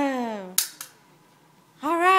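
A toy cap gun fires two sharp, close cracks in quick succession during a child's cops game, with a child's sung or drawn-out vocalizing before and after the shots.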